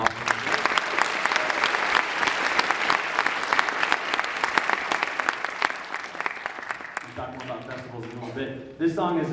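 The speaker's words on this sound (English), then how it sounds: "And let's give them a round of applause for it." An audience claps warmly for junior high girl singers from Greeley, dense steady applause that fades out near the end as a voice starts to speak.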